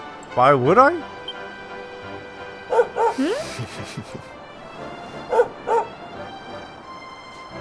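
Sandy the dog in Dragon Quest XI gives a few short, bright yips and barks in quick pairs, spaced out between lines of character dialogue, close and clear over quiet game ambience.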